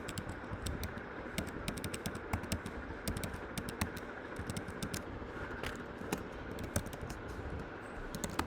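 Steady rapid typing on a computer keyboard while editing a C program, close and fairly quiet, with continuous irregular key clicks throughout.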